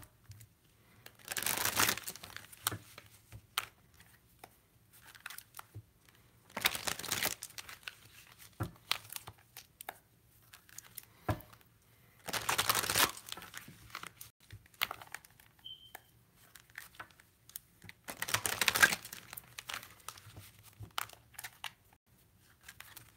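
Four bursts of crisp riffling and flapping from a tarot deck being shuffled, spaced several seconds apart, with quiet handling in between and no talking.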